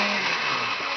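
A blender whirs loudly and steadily as it grinds pepper, a dense, unbroken motor roar with a gritty edge that fills the whole second with no talk.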